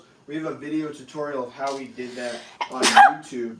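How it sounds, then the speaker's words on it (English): Someone talks conversationally, then one loud, abrupt sneeze bursts out near the end before his speech resumes. "after I sneezed"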